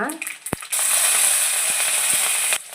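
Green chillies hit hot oil with chana dal and burst into a loud, steady sizzle that runs nearly unbroken, with a few sharp clicks and a quieter stretch of frying at the start and end.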